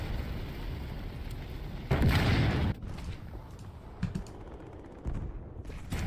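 Tank gunfire at an enemy tank in War Thunder: a loud, dense blast of firing with a roaring burst lasting under a second, followed by several sharper, shorter cracks and rumbling battle noise, with no talk.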